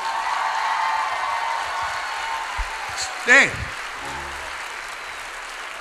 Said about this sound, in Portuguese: E uma salva de palmas para nós.